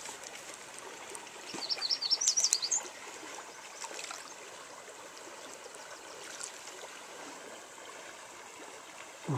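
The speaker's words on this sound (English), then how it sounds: "Going on down the river" A river flowing steadily in the Newfoundland wilderness during salmon fishing, a soft continuous wash of moving water with a brief bird call chirping near the start.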